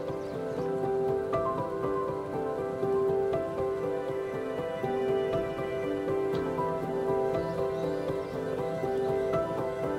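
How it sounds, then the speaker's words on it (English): Rain falling in a forest, captured with a binaural setup: a steady, dense patter fills the whole stretch at even loudness, with tonal layers running through the background. "Also, it starts to rain"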